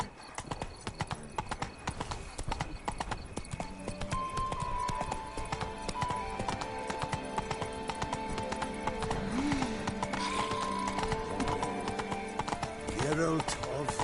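A horse gallops in The Witcher 3 with rapid, steady hoofbeats in a rhythmic clip-clop, joined by occasional whinnies and snorts over ambient game sound.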